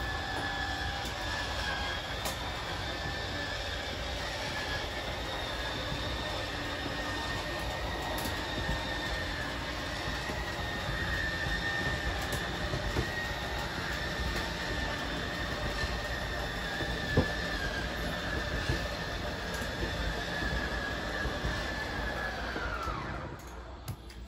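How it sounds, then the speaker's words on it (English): A steady electric motor whine hums continuously with a mechanical rumble underneath, fairly constant in pitch, then cuts off near the end. The slide-out motor of a 2022 Wildwood 28VBXL travel trailer. "you're just going to hear a bit of a whine from either motor, and then they'll turn themselves off"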